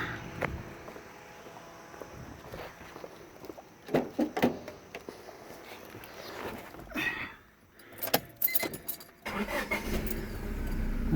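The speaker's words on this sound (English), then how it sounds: "should fire right up." A car is started after its battery terminal bolts are tightened: a short crank and the engine catching near the end, preceded by faint clicks and movement inside the vehicle.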